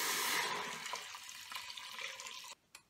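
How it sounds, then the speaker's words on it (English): Water poured into an Instant Pot, a steady close rush of liquid that slowly tapers off before stopping abruptly near the end, with no voices. "now we're gonna go ahead and pour in 5 cups of water"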